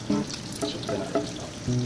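Garlic fried rice sizzles and crackles in a hot pan, a continuous frying hiss with a few scraping stirs, close up and with no talking.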